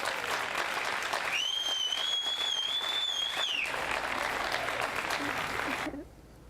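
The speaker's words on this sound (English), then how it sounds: "So our teachers, big round of applause really for our teachers." Audience applause for teachers at a Manhasset schools event, steady dense clapping with a whistle near the start, holding level before cutting off abruptly near the end.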